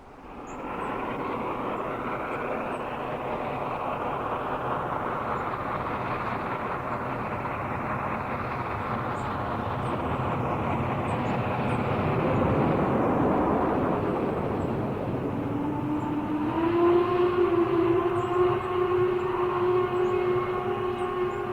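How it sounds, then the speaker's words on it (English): Steam locomotive Y6b number 2191 speeding through town toward Williamson on a winter coal run, a loud sustained rumble and roar that swells as it passes, with a whistle-like tone near the end and no talk. "Tribute Y6b number 2191 as it speeds through town toward Williamson"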